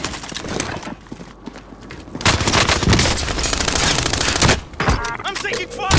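Sustained automatic gunfire in a shooter video game rattles loudly in dense bursts, with a player's voice heard among the shots.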